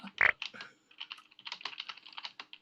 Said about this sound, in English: I see that you're busy typing there